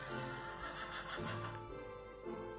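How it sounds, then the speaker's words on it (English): A horse in Minecraft neighs close by over a couple of seconds, a wavering whinny with a few pitch dips and no speech over it. "How the heck did that horse get up here?"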